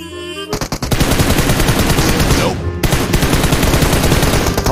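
Rapid automatic gunfire rattles in a shooting video game, loud and continuous bursts of closely spaced shots with a brief dip in the middle before the firing resumes, no voices over it.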